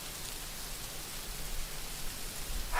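Steady rain falls at night on a ridge, a constant broadband patter that holds at an even level throughout with no voices.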